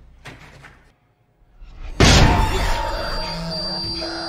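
A zombie slams against a thick, strong door in a horror film: a few soft knocks, a short silence, then one loud heavy bang that rings and rumbles for a while.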